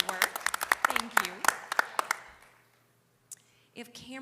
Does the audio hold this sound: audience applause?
yes